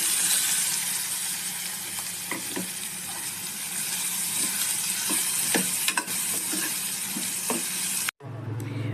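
Onion, curry leaves and green chilli fry in hot oil, a dense, close sizzle broken by repeated scraping stirs and clicks of a spoon against the pan, cutting off abruptly near the end.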